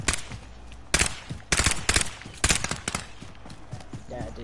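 Sharp bursts of gunfire crack in quick clusters, some rapid like automatic fire, over a dull background with occasional voices.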